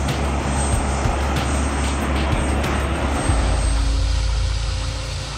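A Lockheed Martin C-5 transport plane's engines give a steady, loud, broadband roar with a deep rumbling low end, continuous and unbroken with no voices.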